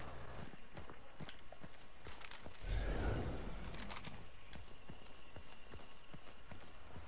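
Horse hooves clip-clop in a video game set around a compound, a steady rhythmic patter of footfalls with a louder heavy thump near the middle, over constant game ambience.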